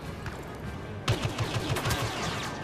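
Blaster fire from the Star Wars Battlefront video game breaks out after a quieter stretch as a rapid volley of sharp, loud shots in quick succession, with no talking over it.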